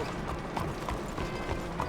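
Horse hooves clip-clopping at a steady trot through a town street in the Red Dead Redemption 2 video game, an even run of close hoof falls over a busy background bed.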